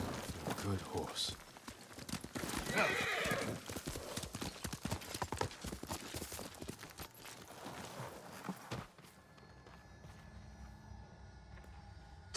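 Horse hooves clip-clop steadily in the game Ghost of Tsushima, a walking rhythm under ambient game sound that drops to quiet near the end; a voice speaks over it, and no clear neigh stands out.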